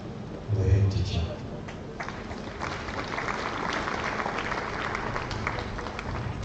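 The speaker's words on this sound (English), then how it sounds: "can we give another round of applause for this wonderful report?" Audience at a secondary school annual general meeting applauding after the head teacher's report, a moderate spread of clapping from a crowd in a large room, with a short low thump near the start and talk faintly beneath.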